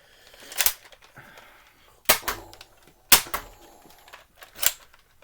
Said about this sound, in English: So, let's fire them. Or, let's finish firing them. So, dual-wielding pistols, or in this case, revolvers.